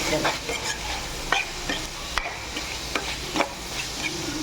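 Masala for prawn curry being stirred and fried in a pan, with a steady sizzle broken by repeated scraping strokes of the spoon, close and fairly loud, no talking.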